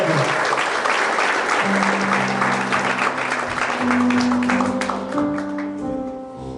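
Church congregation applauding in a long, dense, steady burst while musical instruments play sustained tones underneath, loud and close, fading slightly at the end.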